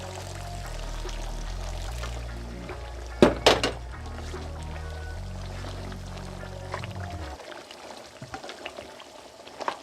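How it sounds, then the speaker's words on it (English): Hot water from a kettle pours steadily into a pot of Jamaican curry goat under a low hum, with a brief clatter partway through, then the pouring stops and a soft simmer continues. "this is some hot water from the kettle"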